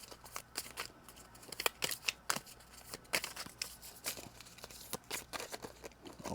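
Tarot cards being shuffled by hand, a quick irregular run of soft riffling snaps and papery rustles, close and fairly quiet, with no talking.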